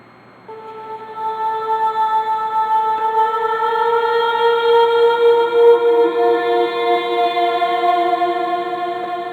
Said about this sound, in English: what you're hearing there is an effect that you can do by reversing the sound